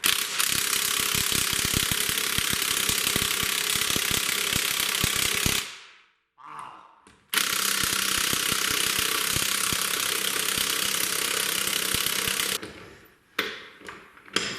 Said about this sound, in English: Now we got to get the impact wrench